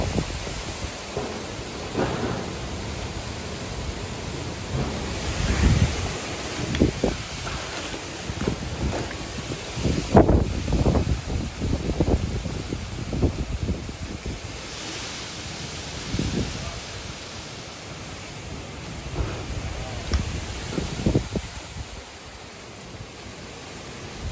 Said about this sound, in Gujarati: મિત્રો પાછું વાવાઝોડું